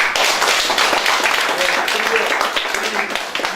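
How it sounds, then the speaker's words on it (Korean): Congregation clapping together in glory to God at a Korean worship service opening a city council candidate's campaign office, a dense, steady patter of many hands filling the room with no words spoken. "두 번만 박수 치겠습니다. 우리 먼저 하나님 앞에 영광의 박수 드리겠습니다."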